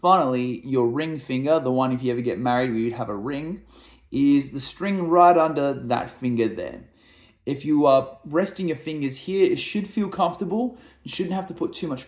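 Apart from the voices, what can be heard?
No distinct noise like a dog, phone or traffic.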